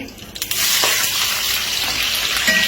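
Spice paste sizzles and crackles loudly in hot oil while being cooked down for baim eel fish, a close, continuous frying hiss with a few soft stirring clicks.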